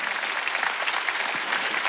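A church congregation at a Wednesday worship service breaks into dense, sustained applause, many hands clapping together evenly and loudly for a short burst.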